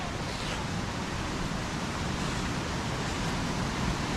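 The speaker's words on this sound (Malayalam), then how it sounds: "നല്ല ഉഗ്രനൊരു അരുവിയൊക്കെ ഉണ്ട് ഇവിടെ" A lively mountain stream rushes and splashes over rocks, giving a steady broadband wash of flowing water that holds close and loud throughout, with no voices.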